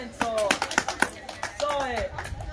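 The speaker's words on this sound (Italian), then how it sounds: "Applauso Lorenzo" Scattered, uneven hand claps for Lorenzo at a gathering in Playa de las Américas, Tenerife, sounding close and intermittent, mixed with voices talking and calling over them.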